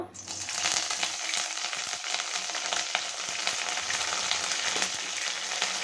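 Curry leaves, ten to fifteen of them, sizzle in hot coconut oil as a tempering for long bean palya, a dense, steady crackling hiss at close range, no voices over it.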